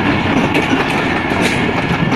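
Awam Express passenger train on the Karachi to Peshawar line, heard as a steady loud rumble of wheels on rails with faint rhythmic clickety-clack throughout.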